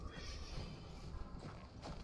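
Horse hooves clip-clopping in The Last of Us Part II, a faint, soft series of steps under a steady hiss of ambient background noise, with a brief louder clatter near the end.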